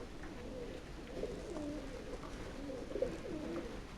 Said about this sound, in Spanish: Y esto está lleno de palomas, todo el techo está lleno de palomas